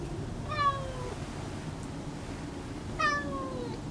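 A cat meows twice, two clear close calls about two and a half seconds apart over a low steady background hum.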